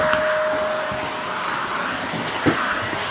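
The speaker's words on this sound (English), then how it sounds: "You don't got to run the vacuum cleaner very long" A vacuum cleaner hums steadily inside a self-reliance cabin, a constant drone with a faint whine and one brief bump near the end, no voices over it.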